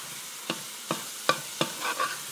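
Djon-djon spaghetti being stirred in a pan: four or five soft, evenly spaced scraping strokes over a faint sizzle, close and without talk.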